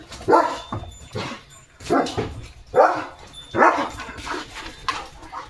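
A German Shepherd barks repeatedly and loudly nearby, about six deep barks spaced roughly a second apart with short pauses between, outdoors in morning sun.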